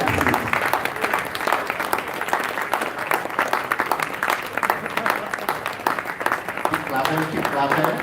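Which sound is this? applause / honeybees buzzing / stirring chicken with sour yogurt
applause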